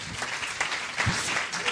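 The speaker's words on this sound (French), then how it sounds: "Et bien on les applaudit tous les deux pour leur donner du courage" An audience applauds two people to encourage them, a short, steady burst of clapping filling the room with no voices on top.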